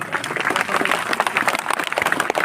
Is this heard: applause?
yes